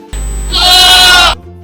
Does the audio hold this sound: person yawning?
no